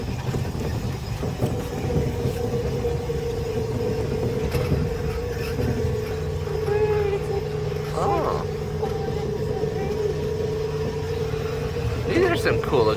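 A vintage car ride at an amusement park, partly abandoned, runs with a continuous low mechanical rumble and occasional clunks and rattles. Voices talk over it at times.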